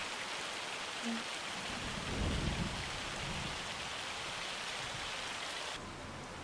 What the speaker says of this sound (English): The rain's not quite so loud as the hail was.